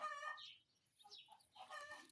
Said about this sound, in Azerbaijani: Bunlar deyəndə yəni toyuqlardır, böyük cücələrdir